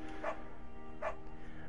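Dog barking in the Firewatch video game: two short barks about a second apart, moderately close, over a quiet hum.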